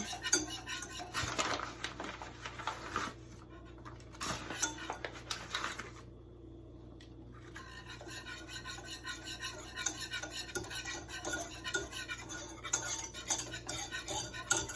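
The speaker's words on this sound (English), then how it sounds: "I'm going to start with 2 tablespoons of flour, and you just want to start whisking it in" A whisk scrapes and clicks against a pan as flour is worked into melted butter for lasagna, a quiet, busy metallic stirring with short pauses.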